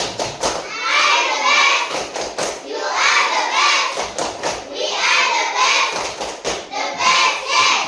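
A primary school class performs a rhythmic clapping chant, bursts of children's hand claps in patterned groups separated by short pauses, with young voices shouting along.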